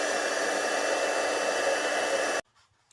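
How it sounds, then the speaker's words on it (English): A heat tool blows a steady, loud rush of hot air to dry a sprayed paper card, then cuts off abruptly, leaving near silence. "So I'm going to use the heat tool for just a minute to"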